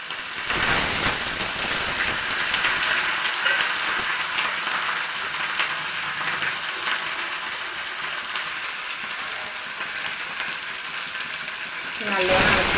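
Green chillies and shallots fry in a pan with a steady, dense sizzle that runs loud and unbroken for the whole stretch, with faint stirring under it and no talk.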